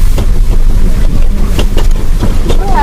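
Swift floodwater rushes loud and close along a flooded river in Indonesia, a constant churning roar buffeted by heavy wind noise on the microphone.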